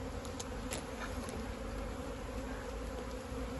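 Honey bees drone in a steady, dense hum throughout, close by and unbroken, while a colony is moved from a nuc box into a full hive.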